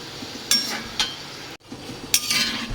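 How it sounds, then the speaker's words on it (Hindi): Nimki snacks frying in oil over a low flame as they are stirred, with a metal utensil clinking sharply against the pan several times over a steady frying hiss. "अब इसे हम चलाते रहेंगे और लो फ्लेम पर इसे पकाएंगे।"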